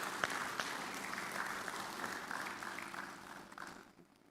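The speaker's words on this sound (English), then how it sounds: "Please give them a round of applause." A crowd applauds steadily, a dense wash of many hands clapping that fades out toward the end.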